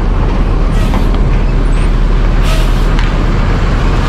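A Vircansa 49 long-distance bus pulls into a petrol station, with a loud steady engine and road rumble and brief hissing air-brake releases, close and continuous, with no talk.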